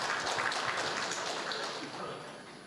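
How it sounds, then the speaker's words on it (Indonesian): An audience at an Indonesian government minister's public address applauds in a continuous, fairly soft wash of clapping that fades slightly toward the end. "Boleh tepuk tangan yang meriah."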